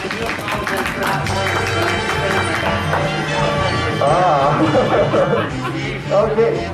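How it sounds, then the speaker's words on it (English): Applause from a convention audience at a furry game-show panel, a dense, steady wash of clapping mixed with crowd chatter, laughter and cheering voices. "big round of applause for Haven."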